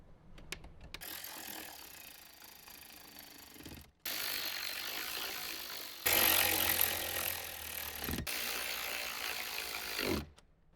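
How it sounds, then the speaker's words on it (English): Screws being driven to secure an Alpine car radio head unit in a Jeep Wrangler JK dash, heard as a few bursts of ratcheting, clicking tool noise separated by short pauses, close and fairly loud with no talk. "we can grab a couple of screws and temporarily secure the radio"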